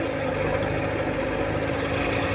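Mahindra tractor engine running, a loud steady low diesel drone with a constant throbbing hum throughout, close by and unbroken.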